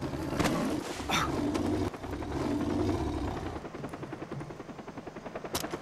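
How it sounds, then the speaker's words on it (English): A helicopter in the video game Far Cry 3 thrums steadily at moderate volume with a chopping rotor pulse, mixed with scattered sharp gunfire cracks and mechanical clatter. "Okay, what's with the helicopter?"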